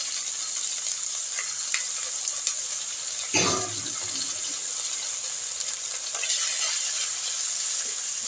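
Onion, ginger and garlic paste dropped into hot oil with whole spices for a Bengali methi malai egg curry, giving a steady close sizzle and a sharper hiss burst as the paste hits, then continued frying.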